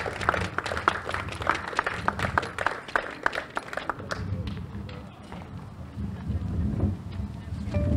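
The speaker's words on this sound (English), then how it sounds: "A round of applause." Applause for the winner at a road race awards ceremony breaks out as scattered, distinct claps from an outdoor crowd, then thins into wind noise and background murmur.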